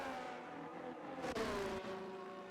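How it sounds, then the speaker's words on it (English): A McLaren race car in a racing video game on a British circuit hums and whines at steady speed with a sustained engine tone that shifts pitch as it moves, moderately quiet, with no voices. "Through Abbey goes the McLaren."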